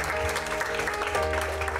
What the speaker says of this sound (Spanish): Un fuerte aplauso a Dios en esta noche.